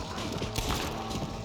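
A horse gallops in Red Dead Redemption: Undead Nightmare, a steady rush of hoofbeats blended with dense game noise and rumble, loud and continuous throughout.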